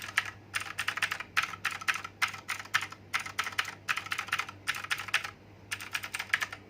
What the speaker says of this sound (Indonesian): keyboard ini menggunakan switch dari Otemu Blue yang berisik banget